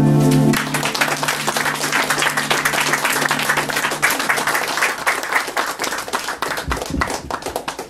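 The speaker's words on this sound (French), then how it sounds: "Applaudissez-le encore une fois, s'il vous plaît." An audience at a poetry evening applauds poet Antonio D'Alfonso, with dense, lively hand clapping with distinct individual claps throughout and a brief voice at the start.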